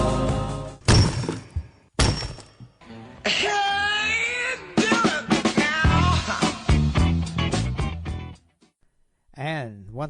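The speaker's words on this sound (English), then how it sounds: "that's the sound of rock cracking" A staged rock-cracking sound effect on a political talk radio show: heavy thunks and breaking crunches mixed with wailing, voice-like cries, loud and busy, ending in a brief pause and a warbling tail.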